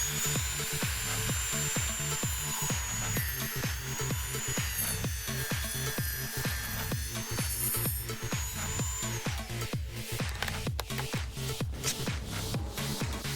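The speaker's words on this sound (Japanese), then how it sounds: "アクリル板を取り除いて溝加工をすると" A wood trimmer router cutting a groove into a board: a loud, steady high-pitched motor whine with harmonic tones and a rhythmic rasping cut, close and continuous, no speech.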